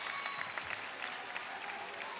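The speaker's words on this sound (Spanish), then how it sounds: "Me gusta esa competencia de aplausos" Dense audience applause at a university games opening ceremony, with delegations competing in clapping, a steady roar of many hands from a large crowd.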